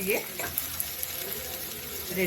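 Green chillies frying in a pan give a soft, continuous sizzle with light stirring and a few small pops, quiet and close.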